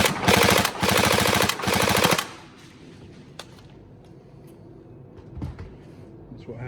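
A Tokyo Marui SCAR-H NGRS airsoft electric gun fires loud, rapid full-auto bursts at close range, three quick strings of shots in about two seconds, followed by quieter handling clicks and rustle.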